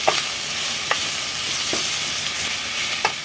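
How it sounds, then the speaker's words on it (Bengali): Finely chopped onions frying in oil in a pan are stirred, giving a steady, close sizzle broken by four sharp spatula scrapes spaced roughly a second apart. "সে পেঁয়াজটা আমি এর সঙ্গে আমি দিয়ে ভালো করে নাড়িয়ে নেব।"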